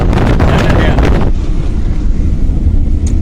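Strong wind buffets in through an open car window on a drive through Gir forest country, a loud steady rushing roar with heavy low rumble that fills the whole moment.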